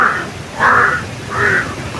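Several crows cawing, three loud drawn-out caws in a slow, evenly spaced series, fairly close and clear over faint outdoor background noise.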